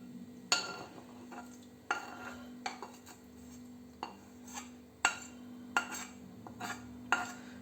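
Buckwheat and fried onion filling for potato cabbage rolls is stirred in a bowl, a spoon scraping and knocking against the dish in a slow, uneven series of close clinks and scrapes, alone without talk.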